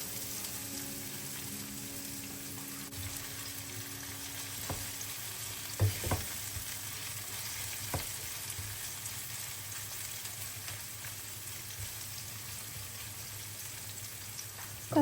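Onions frying in oil in a pan, a steady close sizzle that holds throughout with a few soft clinks of stirring and no talking.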